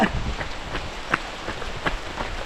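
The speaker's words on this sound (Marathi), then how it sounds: "पाऊस येतो आहे" Steady rain patters on a hard surface, with scattered louder drips landing over a dense wash of falling water.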